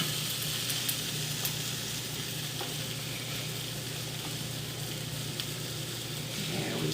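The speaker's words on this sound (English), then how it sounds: "we're gonna saute this up" Mushroom cream gravy sautéing in a pan, giving a steady, dense sizzle and bubbling hiss that holds evenly throughout with only faint ticks, close and alone with no talking.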